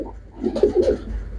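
A large pigeon offered for sale coos close by: a short, low, throaty phrase of a few rolling pulses, alone against faint background hum.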